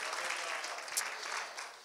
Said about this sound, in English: Why don't we just give God a hand clap of praise?